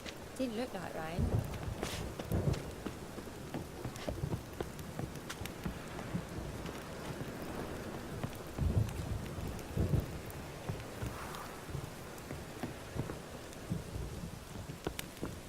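Rain falls steadily in The Witcher 3 game world during a thunderstorm, with low rumbles of thunder swelling at intervals and a constant wash of rain over everything, while occasional voices and other game sounds come and go.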